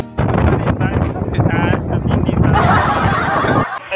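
Strong wind buffets the microphone at a hilltop lookout, a loud continuous rumble that runs the whole way, with a voice speaking over it and a harsher gust near the end.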